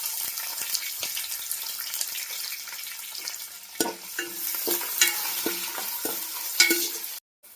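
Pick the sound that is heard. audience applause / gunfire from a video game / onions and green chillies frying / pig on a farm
onions and green chillies frying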